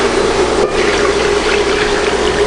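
Water pours continuously into a soup pot for potato soup, a loud steady gushing and splashing with a slight tonal hum, no voice over it.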